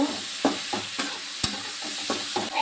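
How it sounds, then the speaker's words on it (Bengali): Okra frying in a pan with potato and onion, a steady hiss of oil broken by several sharp scrapes and stirs of a spatula at irregular intervals, close and with no talking. "ভেন্ডিটাও ভালো করে কষে নেব।"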